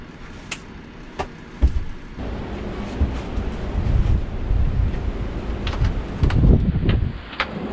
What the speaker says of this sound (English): that wind is whipping 30 miles an hour